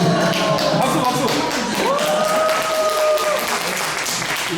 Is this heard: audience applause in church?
yes